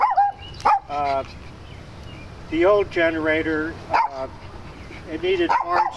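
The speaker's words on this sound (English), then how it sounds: "Sorry about the dog barking." A dog barks in several short bursts of harmonic yelps at close range, with someone talking in between about an RV generator in a 1998 Winnebago Minnie 22ft Class C motorhome.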